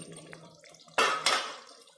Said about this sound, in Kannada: ಸಾಕಿದು ಈಗ ನೀರು ಸೇರಿಸ್ಕೊತೀನಿ